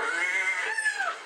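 Cats meowing loudly in a drawn-out, wavering yowl that rises and then falls away over a second or so, close by with nothing else behind it.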